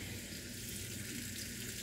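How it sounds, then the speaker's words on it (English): Dry cured bacon fries in a pan with a steady, soft, close sizzle throughout, no voices over it. "dry cured bacon. Got some frying up right now."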